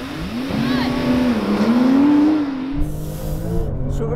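A Porsche 911 Turbo S (992 or 991.2) launches in a drag race, its engine note rising loudly as it accelerates and struggles for grip, then dropping away abruptly near the end.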